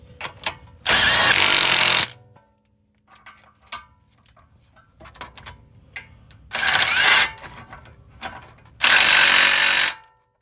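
Bolts on an Infiniti Q60 air suspension are tightened with a power tool, three loud whirring bursts of a second or two each, separated by quieter clinks and handling noises near the car.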